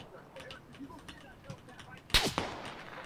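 A single sharp shot rings out in the battle royale game PUBG, loud and close over a quiet rustling background, with a brief echoing tail and a smaller second crack just after.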